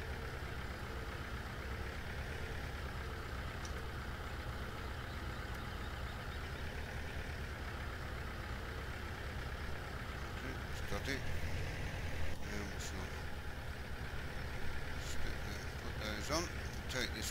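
Tractor engine in Farming Simulator 17 running at a steady low idle, a continuous droning rumble that stays even throughout, with a few faint higher clicks and tones near the end.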